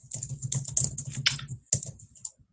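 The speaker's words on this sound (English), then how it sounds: "I'm typing too in the comments here" Quick, uneven clatter of keys being typed on a computer keyboard during a team call, a short burst of close, crisp clicks with brief pauses.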